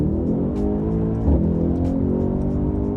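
Mercedes-AMG car pulling away hard from a standstill, a steady loud low engine roar with harmonic drone throughout and a brief surge in the middle.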